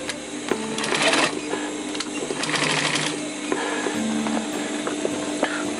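Sewing machine stitching webbing onto a roll-up bag: a loud, close, steady mechanical whirring and rapid clatter in several runs with brief pauses between bursts.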